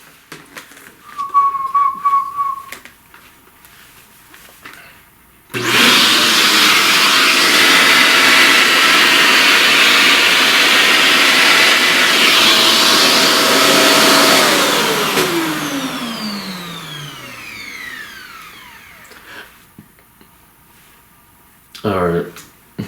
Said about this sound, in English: let's vacuum all that